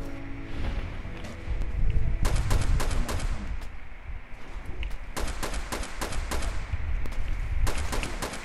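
Rapid rifle gunfire in the video game Fallout, bursts of sharp shots in quick succession separated by short pauses, loud and close against a low rumbling game background.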